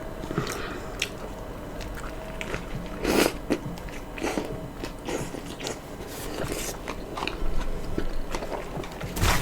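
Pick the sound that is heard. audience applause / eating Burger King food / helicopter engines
eating Burger King food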